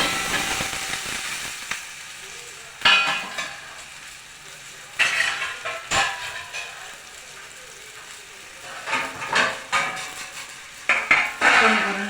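Raw mango pieces are stirred in a thick copper-bottomed steel kadai, giving a soft sizzle with intermittent scraping and clanking of a spoon against the metal, in several short bursts.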